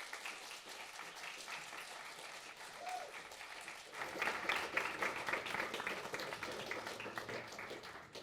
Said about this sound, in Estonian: Päriselt tehke endale veel kord üks suur aplaus